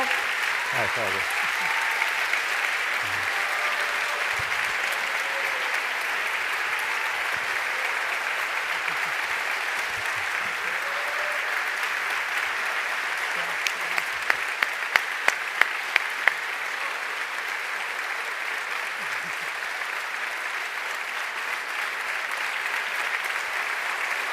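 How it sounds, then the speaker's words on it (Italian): Sustained, steady applause from an audience at the Terzani Prize 2023 award ceremony, continuing evenly throughout with a few sharper claps midway; no one speaks over it. "perché non lo fai smettere questo applauso"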